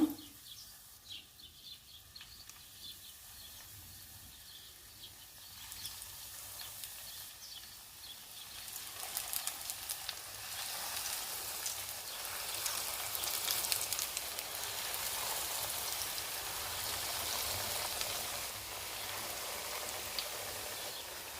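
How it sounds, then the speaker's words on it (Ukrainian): Buckwheat and porcini mushroom cutlets fry in about four tablespoons of oil in a pan, giving a steady hiss that starts soft and grows louder and denser partway through, with no talk. "Жарю її із двох сторін по пару хвилин до такої рум'яної шкориночки, до готовності."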